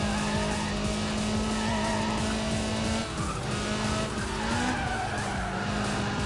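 Nissan 240SX in the Need for Speed: Pro Street racing game, its engine droning under long, loud tire squeals through twisty corners, with a brief shift midway and no talk.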